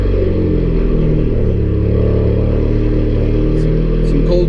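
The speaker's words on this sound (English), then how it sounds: "We're gonna start the car." A Volkswagen MK7 Golf R fitted with an APR dogbone insert turns over on a cold start, settling into a steady, loud, close engine drone with a deep rumble throughout.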